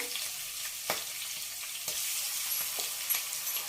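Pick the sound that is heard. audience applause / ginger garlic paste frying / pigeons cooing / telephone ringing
ginger garlic paste frying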